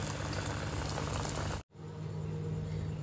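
Burger patties (tikki) frying in hot oil in a home kitchen give a steady, loud crackling sizzle, broken once by a very brief silence, then continuing.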